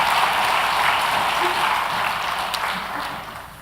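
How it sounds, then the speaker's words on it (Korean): Warm, continuous applause fills a church sanctuary as the congregation cheers the choir at an Easter Sunday service, a dense wash of hands that slowly tapers off. "여러분 다시 한번 뜨겁게 박수로 격려 한번 해주시기 바랍니다"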